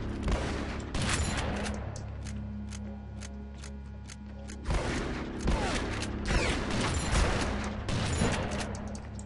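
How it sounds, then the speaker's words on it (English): Rapid gunfire in the survival horror video game AfterFall Insanity rattles through a sustained low drone, with quick bursts of sharp close shots that keep returning across the whole stretch. "Stop dodging my bullets and die."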